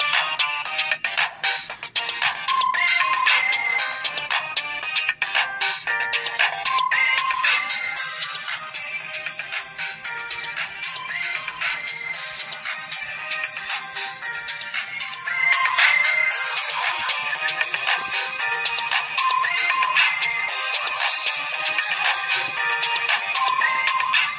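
Ringtones from a Verizon Wireless LG Env Touch phone play one after another as a continuous series of bright electronic melodies and tones, loud and close, with short shifts between tunes and no talking.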